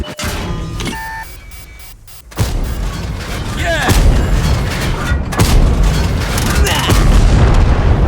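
A shell strikes a tank and knocks off its track in World of Tanks, a sudden loud boom and impact followed by heavy rumbling engine and battle noise, with a beep heard early, no talk.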